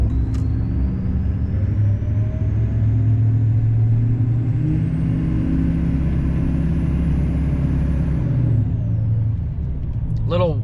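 A pickup truck drives along with a heavy, steady low rumble and road noise throughout while its tires feel out of round, and a voice talks over the drone.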